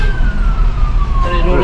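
A police car or ambulance siren wails as a steady falling tone over the rumble of a moving vehicle, fairly clear and continuous, with people talking in the background.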